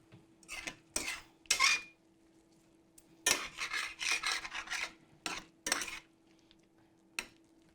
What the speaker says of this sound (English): You want to stir this up just a little bit